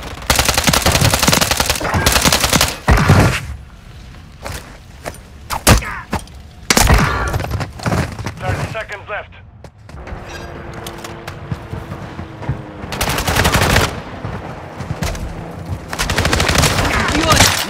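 Automatic gunfire in the Modern Warfare 2 and 3 video games, loud long machine-gun bursts broken by single shots, thuds and short quieter gaps, with a voice calling out briefly.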